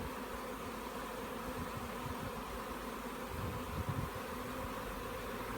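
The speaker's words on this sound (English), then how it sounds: "Now there's 1 bee on the front of the box fanning." Honey bees fan and buzz at the front of a hive box, a faint, continuous drone of wings at close range with no voices over it.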